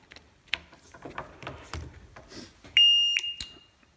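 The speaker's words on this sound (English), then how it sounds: "The buzzer will chirp, and it will continue the countdown." After some quiet shuffling and faint movement, an electronic buzzer sounds two sharp, high chirps in quick succession, loud and close.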